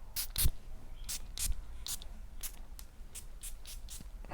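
A series of short, sharp hissing sprays from an M Micallef Notorious XO perfume bottle, about a dozen quick bursts in an uneven rhythm, close by and fairly quiet.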